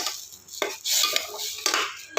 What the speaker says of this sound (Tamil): நல்லா கிண்டிட்டு